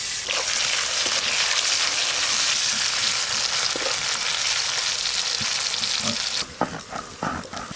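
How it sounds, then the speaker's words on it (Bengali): Chopped onions and tomatoes fry in a pan, giving a loud, steady sizzle that runs for several seconds. Near the end the sizzle drops and a few clinks and scrapes of stirring are heard. "পেঁয়াজগুলো লাল লাল করে ভাজা হয়ে গেছে"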